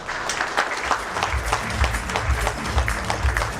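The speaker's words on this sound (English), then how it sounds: "Let's give them a huge round of applause" An audience at a corporate function applauds a team: a sustained, fairly loud wash of many hands clapping, steady throughout with no voices on top.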